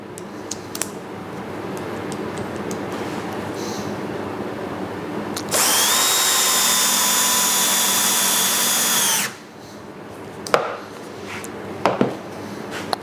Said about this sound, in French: On va installer le renvoi d'angle sur la visseuse.